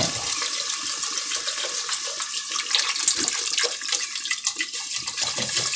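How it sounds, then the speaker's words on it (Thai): Water pours into a pot of Thai eggplant and pork curry, a continuous close splashing gush with bubbling that holds steady from start to finish. "ใส่น้ำลงไปที"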